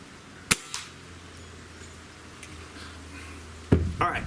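A Stoeger AT30 air rifle fires a pellet with one sharp crack followed by a faint follow-up knock, then quiet room tone, and later a louder mechanical clunk and rattle as the rifle is handled.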